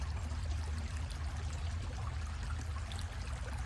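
A creek flowing steadily in a soft continuous trickling wash while a water sample is drawn from the bank, faint and even throughout with no talking.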